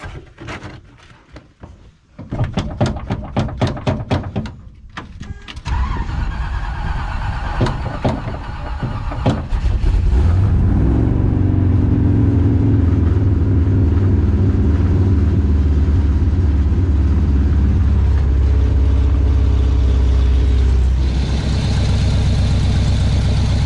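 A 1968 Chevy Bel Air, revived after sitting for eight years, cranks and then runs rough on only four cylinders, a loud, uneven close-up engine drone that holds steady after some clunks and rattles at the start.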